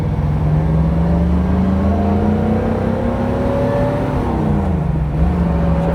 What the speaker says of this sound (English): I like the sound of the dual exhaust